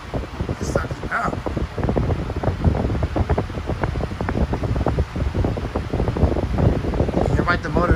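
An 18 inch TPI high velocity fan runs with a steady, close whooshing roar and wind buffeting on the mic, while a person talks over it.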